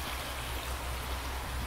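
Steady bubbling of aerated water in a deep water grow bed, a constant close gurgle with a soft trickling texture and no talk over it.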